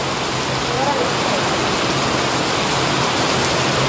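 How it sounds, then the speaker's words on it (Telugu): Heavy downpour of rain pouring steadily at Ramagiri fort in Peddapalli district, a dense, loud, unbroken hiss filling the whole stretch, with faint voices in the background. "అసలు ఏంటి కుండపోతా"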